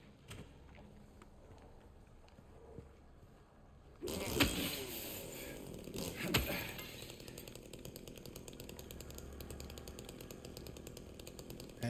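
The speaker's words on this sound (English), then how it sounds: "there's just the chainsaw noise that goes on all the time when it's out" A chainsaw drones continuously in the Silent Hill 2 Remake video game. It starts as a muffled idle, then jumps to a loud, steady buzzing roar with a couple of sharp revving spikes.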